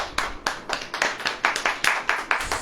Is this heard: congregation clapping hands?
yes